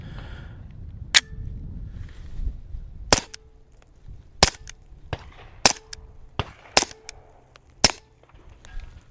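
A pistol fitted with a CMMG suppressor fires about nine sharp, muffled cracks in an irregular sequence, each a crisp snap with a short metallic ring, against a quiet outdoor background.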